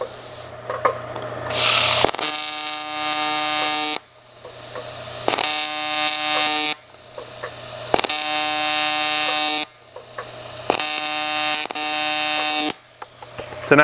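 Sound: TIG welder welding aluminum

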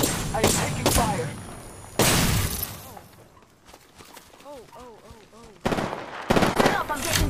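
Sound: gunfire hitting the player in a video game

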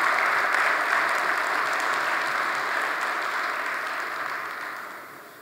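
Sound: long audience applause after a talk

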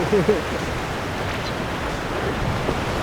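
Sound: small ocean waves at Pranburi beach

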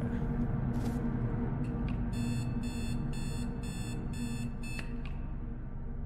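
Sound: device beeping six times in horror video game

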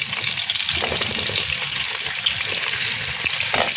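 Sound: meat frying in a pot

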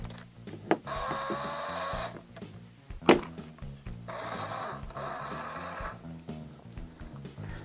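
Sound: vintage 1970 LEGO remote control car motor running

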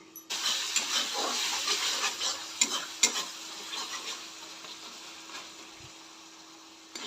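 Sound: masala with tomatoes sautéing on low heat

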